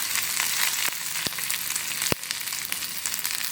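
Ginger, green chili and curry leaves sautéing in a pan, a dense continuous sizzle broken by a couple of sharp spoon knocks.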